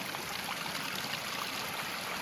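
Spring drinking water pours steadily through a wooden trough, a close, continuous rushing splash with no pauses and no voices.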